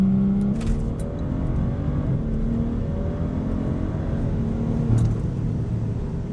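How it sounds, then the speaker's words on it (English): A BMW N55 engine with tuned anti-lag pulls hard through second gear, a steady loud droning roar with rising engine tone throughout, heard from inside the car. "So here's a second gear anti-lag pull."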